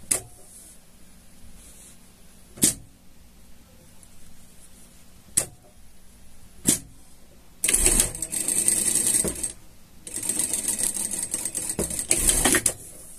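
A sewing machine stitches a pocket onto a pet harness, first with a few isolated clicks spaced seconds apart, then with two sustained bursts of rapid, rattling stitching.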